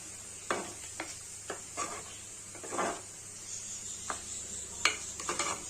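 A spoon scrapes and stirs coconut paste into snake gourd sambar in a pot, with soft irregular strokes over a faint background hum and quiet sizzle.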